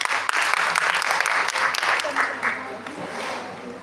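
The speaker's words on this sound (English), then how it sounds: "Give them a big round of applause, please." Applause from a college event audience as team number 5 comes to the stage to present, a dense burst of clapping that slowly thins and fades toward the end.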